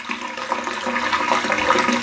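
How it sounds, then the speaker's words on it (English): Water from a garden hose gushes and gurgles steadily as it flushes down a smelly bathroom drain, loud and close, with no talking. "So now I'll just use the hose again"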